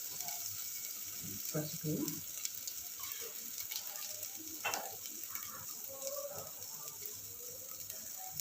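Chicken and ridge gourd curry frying in a pan gives a steady, close sizzle with a few stirring scrapes, while a voice briefly speaks over it.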